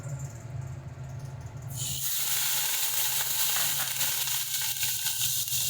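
Onion paste dropped into hot oil, just after pointed gourd was fried in it, bursts into a loud, steady sizzle partway through, following a quieter stretch.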